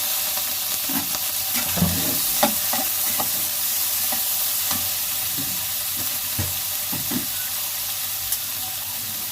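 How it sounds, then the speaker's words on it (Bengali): Prawns seasoned with turmeric and salt fry in a pan, a steady loud sizzle running throughout with scattered small clicks and scrapes of stirring close by. "তো আমি চিংড়ি মাছগুলো ভেজে নেব"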